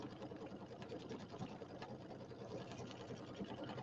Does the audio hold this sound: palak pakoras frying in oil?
no